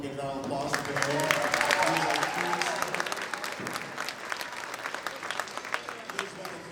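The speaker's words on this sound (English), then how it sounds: "Give him a good round of applause for being here." A school band concert audience claps warmly for a supporter of the band program, steady crowd applause that swells and then tapers, with talking mixed in at the start.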